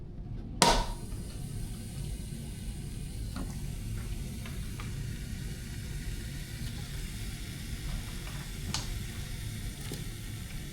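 Oxtail dumped into a pressure cooker: a sharp clatter as it lands, then a soft steady sizzle with occasional faint clicks, low and close throughout.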